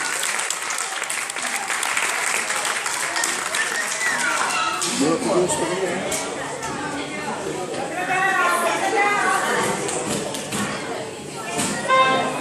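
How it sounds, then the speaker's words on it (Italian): An audience at a live show in a venue applauds steadily for the owner, a dense, sustained wash of clapping with scattered louder claps and murmuring voices mixed in. "Facciamo un applauso."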